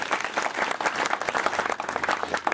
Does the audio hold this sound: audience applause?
yes